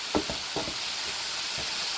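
Ground hamburger meat frying in a pan for sloppy joes, a steady broad sizzle with a few soft stirring scrapes and knocks near the start, close and even throughout with no talking.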